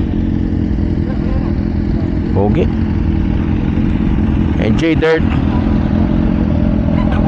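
A motorcycle, a Ducati Monster 1100 or a newer 790, gives a short close rev near the middle, over a steady idle rumble, while people talk nearby.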